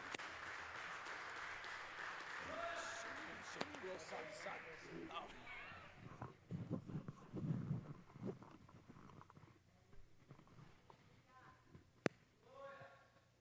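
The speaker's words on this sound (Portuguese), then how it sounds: "uma salva de palmas para Jesus" A church congregation claps together during a service, loud at first and then fading out, with a voice speaking over the last of the applause.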